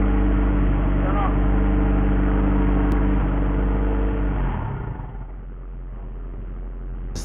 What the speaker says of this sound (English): It's the first start of the car on the E85. It's a big difference in how the car sounds.